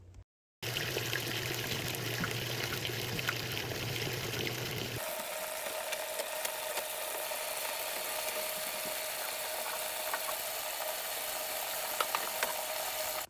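A washing machine runs quietly with water sloshing and trickling over a low motor hum. Partway through the sound changes to a steadier, smoother churning.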